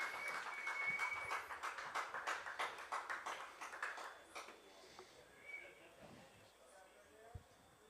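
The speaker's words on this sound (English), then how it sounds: "how about one more round of applause for your graduating Central Maine" Scattered applause rises from the stands at a college baseball game between NHTI and CMCC, faint and distant with a rhythmic clapping texture, fading out over several seconds while a voice talks over it.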